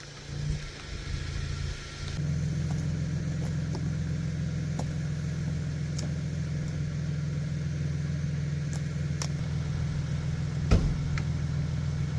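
A car engine hums steadily at low revs while towing a teardrop trailer forward at a campsite, a close, continuous drone with a few faint knocks and clicks over it.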